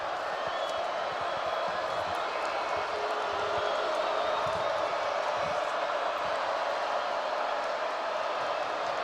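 Stadium crowd at a Cincinnati–Pittsburgh college football game jeers Pitt's kicker before a 53-yard field goal attempt, a steady broad roar of many voices with scattered shouts throughout.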